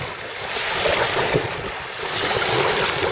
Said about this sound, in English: Daddy's kayaking through the rapids.